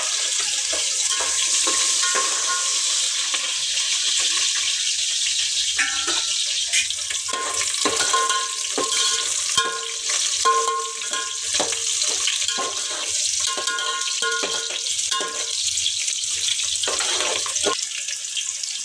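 Onions dropped into hot oil for egg biryani crackle and sizzle steadily up close, with stirring and a few scraping knocks breaking through the constant hiss.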